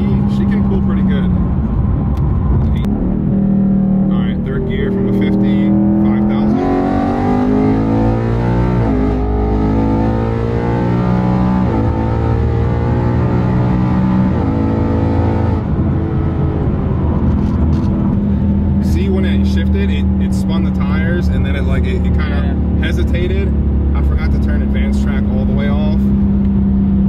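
An 800+ wheel-horsepower Dodge Challenger Hellcat pulls hard, its engine note climbing steadily in pitch through the gears, loud and continuous from inside the car, with occasional voices over it.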